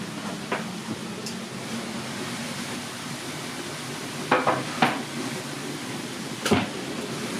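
Chunks of beef searing in a hot pan for stew, a steady close sizzle with a few sharp clicks and scrapes of a utensil.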